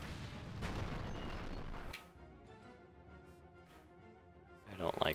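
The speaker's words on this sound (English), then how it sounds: "One of those heavy mortars we saw before." Heavy mortar fire thunders in a video game assault against Imperial Japanese Army forces: a dull, rumbling barrage for the first two seconds, then a quieter lull before another burst rises at the end.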